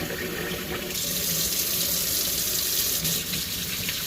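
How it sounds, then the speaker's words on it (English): A kitchen tap runs steadily into a sink while a plum tomato is rinsed under it, a constant close splashing stream for the whole stretch with no talk. "Gonna wash this tomato. 1 plum tomato."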